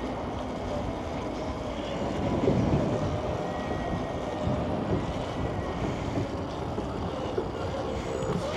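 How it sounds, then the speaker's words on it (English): Wind roars across the microphone during a group electric unicycle and e-moto ride in Detroit, a steady loud rushing buffet with brief gusty swells. "That wind is pulling me."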